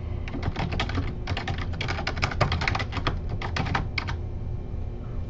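Fast typing on a computer keyboard, dense bursts of close, crisp key clicks with short pauses in between, heard alone without any talking.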